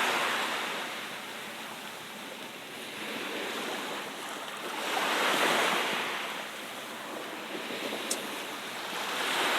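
Surf at Ujung Gelam beach in Karimunjawa, Jepara, a steady broadband wash of waves swelling and easing in slow surges, with light wind and no voices.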